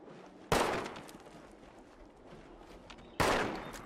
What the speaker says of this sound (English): My NPC neighbor is firing her gun at some unseen object or presence.